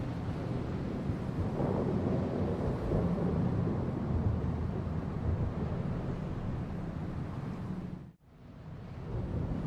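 A deep, continuous rumble of thunder mixed with steady rushing wind in the video game Bloodborne, loud and enveloping, cutting out abruptly near the end.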